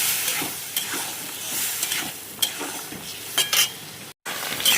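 A ground paste of mustard, cumin, chilli and turmeric being stirred into potatoes and pointed gourd frying in a pan, with close scraping strokes over a continuous sizzle and a few sharp clinks of metal.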